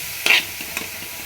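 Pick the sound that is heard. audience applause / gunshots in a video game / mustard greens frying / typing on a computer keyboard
mustard greens frying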